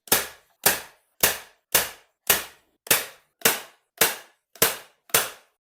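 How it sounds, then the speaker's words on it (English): A staple gun fires ten evenly spaced, sharp snapping shots into upholstery fabric on a dining chair, each crisp and close with quiet gaps between. "we can work from that center staple out, stapling along the edge, stopping short of the corners"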